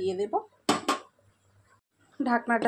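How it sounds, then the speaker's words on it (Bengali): A lid set onto a cooking pot while making Basanti pulao, heard as one short clink between bursts of nearby speech. "এবার ঢাকনাটা দিয়ে দেবো"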